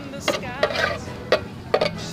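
Hotdog, ground meat and ketchup being stirred together as pizza toppings, a utensil scraping and clinking against a pan in a few distinct knocks, with soft background sounds between strokes.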